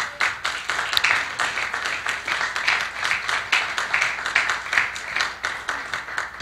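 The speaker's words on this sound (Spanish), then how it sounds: "¿Puedes darle un aplauso a Cristo," A church congregation claps in a lively round of applause, dense hand claps with a loosely rhythmic pulse, fairly close and with no talking over it.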